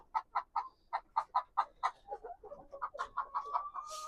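Roughly a hundred hens settling into a mobile egg coop on their first night give off a steady run of close, rhythmic clucks, denser and more overlapping toward the end, with no talking.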